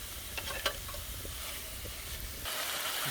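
Bulgogi sizzles and hisses steadily in a pan at a campsite, close and fairly soft, with a few clicks of stirring and a louder hiss near the end.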